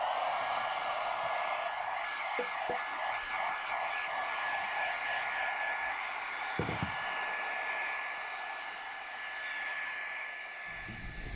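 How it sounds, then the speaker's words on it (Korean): A hair dryer blows steadily and loudly, drying varnish on a handmade wooden footstool in a workshop. Its whooshing hiss runs unbroken, with a few faint knocks underneath. "작업 공간에 드라이기를, 건조기를 이용하셔서 이것도 말려주시는 게 좋습니다"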